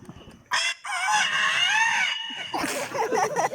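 A male mimic imitates a big rooster's crow: a brief opening burst, then one long, strained, wavering call held close and loud, followed by a louder noisy stretch of crowd or voices.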